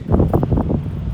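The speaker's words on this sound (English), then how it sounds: "The winds are insane in Southern California" Strong gusting wind in the Mojave Desert in Southern California, with gusts up to 65 miles an hour, roars and buffets loudly against the microphone in a brief, continuous rumble.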